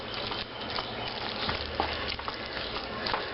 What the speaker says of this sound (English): I want to put a little bit of cook on this egg before I add it to that pie shell